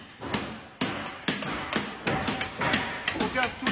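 Repeated sharp knocks and thuds of mortar corners being broken out inside concrete post formwork, irregular strikes at close range with some background voices.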